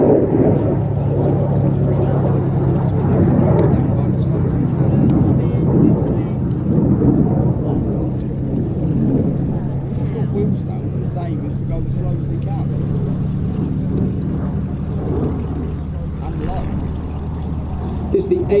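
An F-35A fighter jet makes a low approach to the runway, a loud, continuous low roar that swells and lingers throughout, with a voice talking over it.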